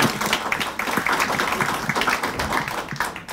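Audience at a Korea University symposium on biothreat defense claps for panelists, giving close, uneven applause with distinct individual hand claps over a busy continuous patter.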